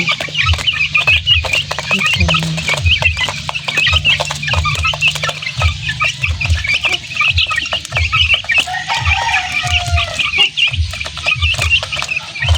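Several hens cluck softly and repeatedly, close by, with chirpy peeps of month-old chicks and bustling movement over a busy farmyard background.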